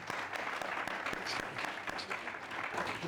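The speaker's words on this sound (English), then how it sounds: "A round of applause." Audience at a business masterclass panel discussion applauding, a steady wash of many hands clapping at moderate level throughout, dense and continuous without voices standing out.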